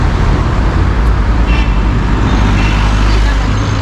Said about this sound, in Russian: Движение, конечно, вечером очень активное.